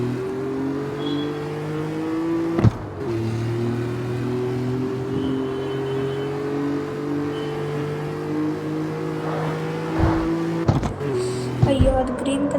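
A car in the CarX Street racing game holds a steady, droning engine tone during a top speed run, the pitch creeping slightly upward, broken by a couple of brief clicks and thumps.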